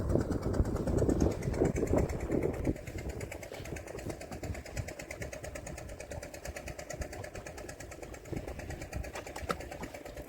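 A fishing boat's engine in the Sundarbans chugs steadily and rhythmically throughout, louder at first, then settling into a constant mid-pitched drone.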